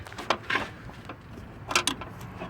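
Wrench working a nut on the alternator of a 1996 Honda Accord V6, faint metallic clicks and scrapes in a few short bursts with quiet pauses between.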